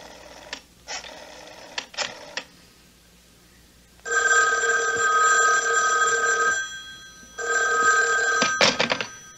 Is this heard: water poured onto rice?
no